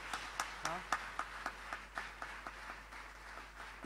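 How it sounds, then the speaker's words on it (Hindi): Audience at a bhajan gathering clapping, a faint, rhythmic pattern of distinct claps at a steady beat, with a voice briefly audible over the opening beats. "जोरदार तालियां वेदांत के लिए"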